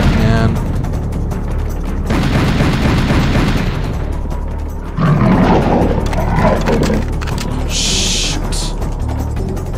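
Enemies firing at the player in the shooter Serious Sam: The First Encounter, a loud, dense clatter of gunfire and booming impacts with roaring effects, continuous across the stretch without a break.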